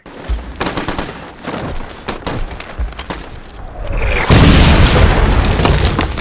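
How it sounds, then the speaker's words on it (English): Mortar shells explode in a Pacific war battle scene from the TV series The Pacific: loud booms and crackling gunfire give way to a sustained, heavy roaring blast in the final seconds. "Is this Japanese mortar strikes or Air Force? I guess it must be mortars."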